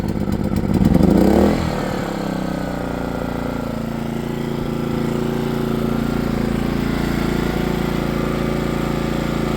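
A PowerSmart 3600 inverter generator, freshly filled with new oil and gas, starts with a loud rattling surge, then settles into a steady, even running hum that continues close by, alone without talk.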